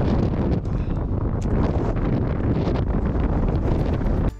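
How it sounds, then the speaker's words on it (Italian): Strong wind in Iceland buffets the microphone in a loud, continuous roaring rumble, gusting unevenly the whole time with no voices. "Purtroppo stamattina c'è un sacco di vento."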